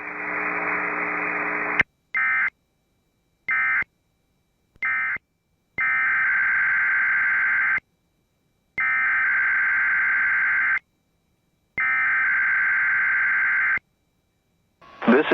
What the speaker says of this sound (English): The preceding signal was a test of the NOAA Weather Radio Station WXL-92's public warning system.